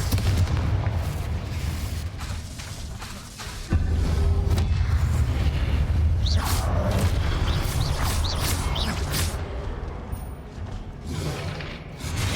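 Confringo spell blasts from Hogwarts Legacy combat: repeated booming explosions and thuds layered over a dense, continuous wash of game noise, with no talking.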